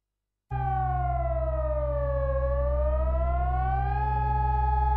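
Civil defense siren sounding during its routine Wednesday test, starting abruptly after a short silence and holding a loud, steady mechanical tone that slowly dips and rises in pitch, alone with no voices.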